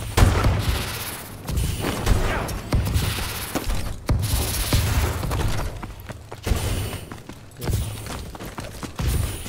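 Gunfire in the video game Call of Duty Advanced Warfare, with dense bursts of rapid shots and booming blasts crackling continuously at close range in online multiplayer combat.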